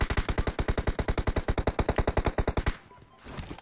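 Fast, evenly spaced automatic gunfire bursts loudly and close in the PUBG Mobile video game, some twenty-five shots in a steady rhythm before stopping abruptly, followed by quieter background noise.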